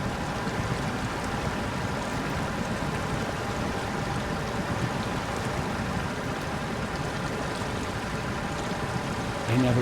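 A heavy off-road truck in Snowrunner, hauling timber in Ontario, churns steadily through water, a continuous splashing wash with engine rumble underneath, close and even throughout, with no talk.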